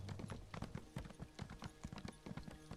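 Horse hooves clip-clopping in Elder Scrolls Online as a mount heads down a mountain, a quick steady run of sharp hoofbeats, close and loud, with no talk over them.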